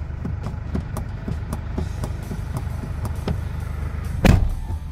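Chevrolet S10 pickup idles with a rhythmic ticking gearbox noise repeating under the engine hum, followed by a single louder clunk near the end; no speech.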